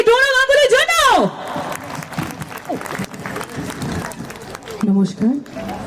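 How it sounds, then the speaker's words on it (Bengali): An audience at an inauguration ceremony claps for Dona Ganguly, with a soft, scattered applause running beneath a host's voice and other people talking over it. "সো একটু জোরে হাততালি হবে শ্রীমতী ডোনা গাঙ্গুলির জন্য"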